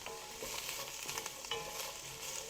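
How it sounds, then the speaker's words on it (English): Vegetables sautéing in a pot as the base for smoked turkey split pea soup, a steady close sizzle with crackling and occasional stirring scrapes, no voices. "we're going to put all our vegetables in the pot. And we're going to saute them"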